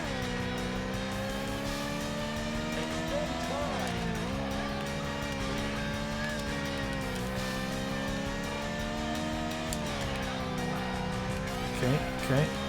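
Race car in a Tokyo road race video game, engine droning steadily at high revs with pitch dips and recoveries through braking and corners, continuous and close, with brief tire squeal near the end.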